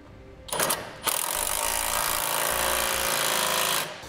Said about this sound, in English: Now using a 3/4 inch socket and wrench, we'll tighten up our bottom clamp strap bolts.